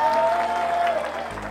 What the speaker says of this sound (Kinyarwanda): Mumuhe amashyi.